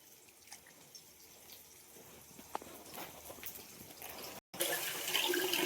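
Ivy gourd pieces being rinsed in water at a kitchen sink, soft splashing and trickling, fairly quiet, with a brief cut before a louder rush of running water.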